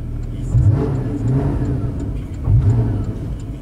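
A Porsche Cayman 981 GTS engine revs up and eases off twice with its variable exhaust off, a throaty exhaust rumble swelling and fading, loud and close.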